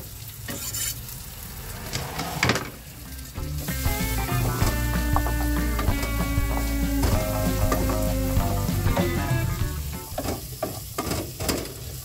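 Garlic, onion and bacon sautéing in a pan inside a motorhome, a loud continuous sizzle with scraping stirs and clattering utensil knocks at the start and end.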